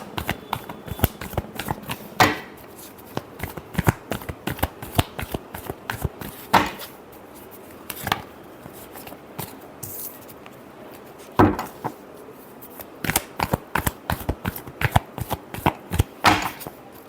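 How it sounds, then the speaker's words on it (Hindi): Tarot cards being shuffled by hand in a series of quick crisp riffles and soft slaps, close and fairly quiet, with a few louder snaps between bursts and no talk. "Last shuffle."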